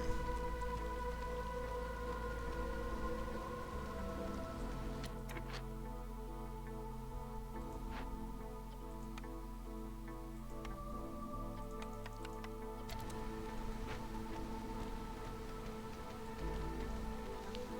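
Steady storm rain hisses across a video game scene for the full stretch, a dense even wash with faint scattered ticks and a low hum beneath, no talking.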